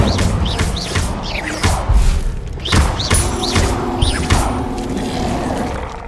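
Spell effects boom and crash in the Hogwarts Legacy video game as the fire spell Incendio and others are cast, giving loud repeated thuds and whooshes over a dense, continuous game soundscape.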